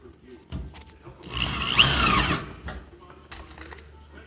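A power driver sinks a pan-head framing screw into clamped metal studs: one short whirring, squealing burst of about a second, fairly faint, set between quieter workshop sounds.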